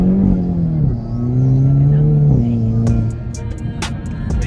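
Hyundai N car making a hard acceleration pull, engine note rising in pitch through the gears with clear shifts, loud and close, followed by sharp crackles or pops as it winds down.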